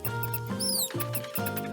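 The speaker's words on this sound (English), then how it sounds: "So that's the sound of the mouse that you can use to distract other players with." A cartoonish mouse squeak sound effect from the video game Unspottable, used to distract other players, gives a few quick high squeaks over a patter of light steps and a short musical loop.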